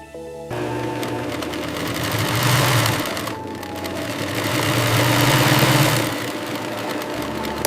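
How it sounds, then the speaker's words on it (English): Sewing machine stitching shut the opening of a swan plume pillow in a factory, a steady close mechanical whir that swells twice in speed and loudness, running alone without talk. "The final, critical step is sealing the pillow opening with a seamless, tight stitch."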